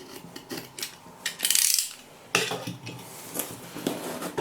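A shipping parcel holding a Sega Mega Drive 2 console is opened by hand, with close scraping, rustling and tearing of packaging in short uneven bursts, including one louder rip, and no talk.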